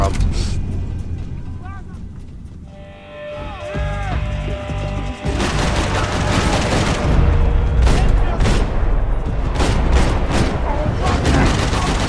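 AK rifle fire in the video game Max Payne 3, loud sustained bursts of automatic shots with booms and crashes, building after a brief quieter lull, with a voice talking over the action.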